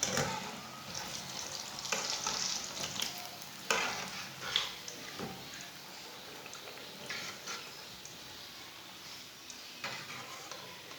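Moong dal pakoras frying in hot oil give a steady crackling sizzle throughout, with occasional louder pops and scrapes of a utensil, close up and with no voices.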